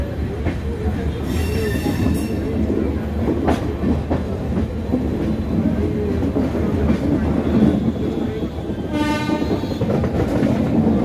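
A crowded general-class carriage on the Shalimar–Puri Sri Jagannath Express rumbles loudly with rhythmic wheel clatter, high squeals and a couple of horn blasts over the constant roar.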